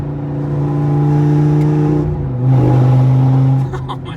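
A supercharged V10 Audi R8 engine revs loudly up close, holding a high steady tone around 3,000 to 4,000 RPM, dropping briefly, then climbing again before easing off.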